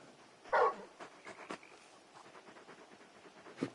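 A large dog companion in the Final Fantasy XVI video game gives one short bark-like sound, followed by quiet panting and small soft noises, with no talk.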